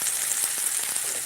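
Potatoes fry in a pan with a steady, bright sizzle and scattered crackling pops, close and continuous through the brief moment.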